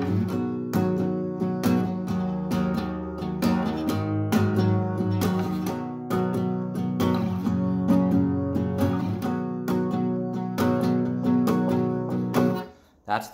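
Guitar playing the intro of a song, strummed chords ringing close and clear in a steady rhythm with repeated sharp attacks, no voices.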